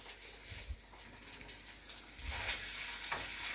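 Meatballs frying in a pan give a steady close sizzle that grows louder partway through, with a few faint clinks over it.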